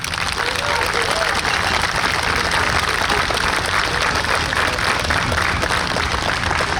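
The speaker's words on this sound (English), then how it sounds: "we think it's those guys that deserve a real round of applause this afternoon" An audience applauds fallen members of the New York State Police special operations team, with sustained, even clapping from a crowd, moderately loud and steady for the whole stretch.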